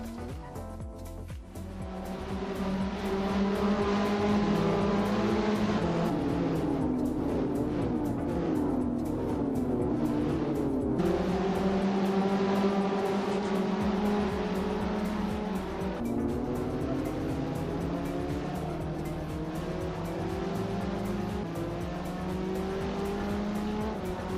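Race car lapping Road America in a modded racing game: a loud, steady engine whine climbing through gears with several drops and rises in pitch as it shifts, near and continuous, with no talk.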